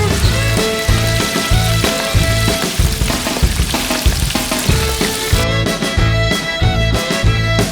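Catfish fries in a fish fryer outdoors by the Mississippi River, a loud, dense, continuous oil sizzle with bubbling crackle close to the microphone.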